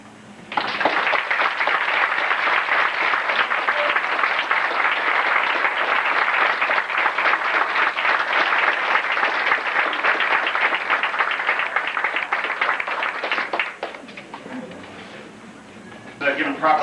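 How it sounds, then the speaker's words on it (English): Guests at a 90th birthday party burst into sustained loud clapping and cheering that fills the room for over twelve seconds, then fades into quieter murmur with a brief final flurry. "hope you all give him a big round of applause."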